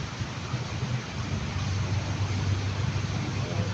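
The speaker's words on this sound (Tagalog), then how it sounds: "Sana wag na pong lumakas ang ulan at nakakatakot po talaga." Heavy rain pours steadily on a flood-prone street where vehicles climb out of the water, a dense continuous hiss with a low rumble beneath it, loud and close throughout.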